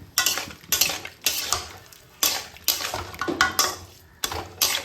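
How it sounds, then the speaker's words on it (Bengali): Pointed gourd, potatoes and prawns are added to a pan and stirred with a utensil, making a run of close, scraping, sizzling strokes with short pauses between them. "দিয়ে দেবো পটল আলু, চিংড়ি মাছগুলো দিয়ে দেবো"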